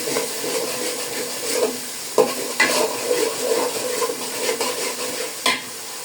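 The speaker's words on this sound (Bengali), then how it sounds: "আদাটাকে আমি একটু ভালো করে ভেজে নেই।" Ginger fries in oil with bay leaf, cinnamon, cloves and cardamom for a chicken pulao, a steady sizzle broken by scattered sharp clinks and scrapes of a spoon against the pan.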